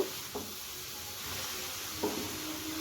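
Sugar being stirred into grated carrots for gajar halwa in a pan, a soft steady sizzle with a couple of brief scraping strokes of the spoon, close and fairly quiet.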